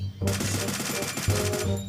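Rapid automatic gunfire rattles in a football-themed shooter video game, a dense continuous burst with a short break midway, loud and close over a steady low background hum.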